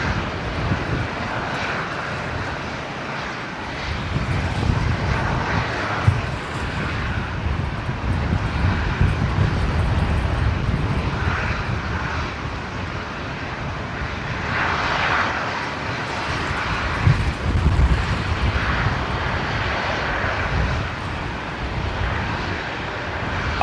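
Airliner landing on runway 19 right at Brisbane Airport, a steady broad engine roar holding close and loud throughout, with wind rumble and slight swells in intensity.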